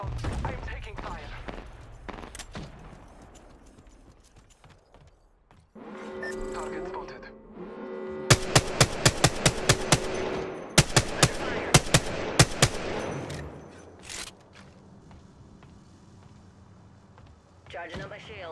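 Gunfire in the battle-royale shooter Apex Legends crackles in bursts, building to loud, rapid volleys of automatic fire in the middle, with voices talking over the game action.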